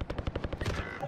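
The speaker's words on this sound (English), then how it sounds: "Definitely not safe because I'm hearing shooting." Rapid bursts of automatic gunfire from a multiplayer shooter video game, a fast rattling series of sharp shots close by, with no talk over them.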